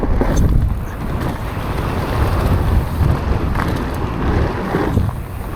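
Strong wind buffets the microphone on a mountain bike ride at Bryce Bike Park, a loud, continuous low rumble that gusts and swells throughout with no talking.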